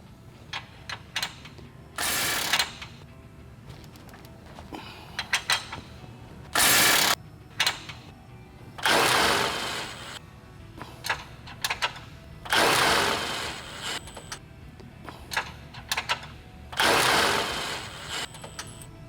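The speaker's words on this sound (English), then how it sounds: "tighten your hardware with the appropriate 17 and 19 millimeter sockets and open end wrenches" Ratchets with 17 and 19 millimeter sockets and open end wrenches tighten Kawasaki Teryx radius rod hardware: bursts of rapid clicking ratchet strokes alternate with brief metallic taps and pauses, close and fairly quiet.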